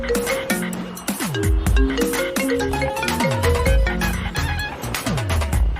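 A mobile phone ringtone for an incoming call: a loud, busy melodic tune with repeated bright tones and sliding notes that plays continuously on its own.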